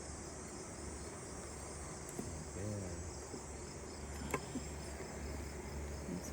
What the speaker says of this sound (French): On t'entend bourdonner.